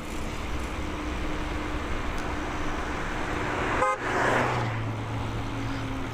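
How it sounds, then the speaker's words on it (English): A car horn honks at a cyclist on a country road, one short blast close by amid steady road noise and passing traffic. "so why are they honking me?"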